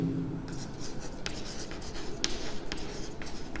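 Pen or marker writing out a polynomial solution on paper or a board, a steady close scratching with short stroke bursts and taps, alone and without talk.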